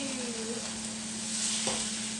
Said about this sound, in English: We are frying our tofu.